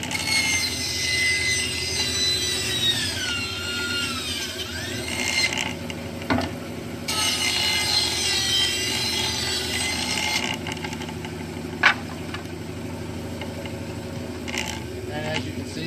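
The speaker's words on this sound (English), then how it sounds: "I just run them through the bandsaw." A bandsaw cuts pieces of paulownia wood, giving a loud, close, whining rasp in two long stretches, with the machine humming steadily between cuts.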